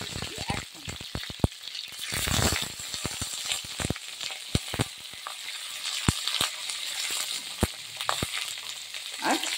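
Eggplant, pumpkin and other vegetables fry in white oil in a wok, giving a steady sizzle broken by frequent sharp clinks and scrapes of stirring, fairly close and with no voices.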